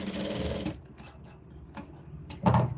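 A sewing machine stitches a blouse in a steady run of about three-quarters of a second, followed by a few soft mechanical clicks and fabric handling, then a brief thump near the end.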